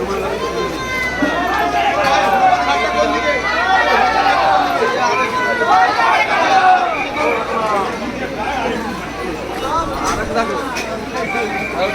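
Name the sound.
crowd of water-carrying pilgrims on road to Tarakeswar temple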